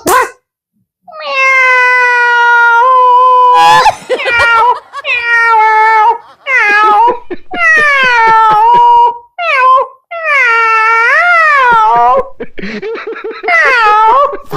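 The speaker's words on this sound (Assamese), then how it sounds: "মেকুৰী সোমালে অ মেকুৰী কোন মেকুৰী চা" A cat meows repeatedly and loudly up close, with long drawn-out wails in quick succession and short gaps between them.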